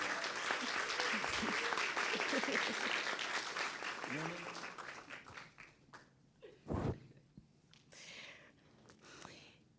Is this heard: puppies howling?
no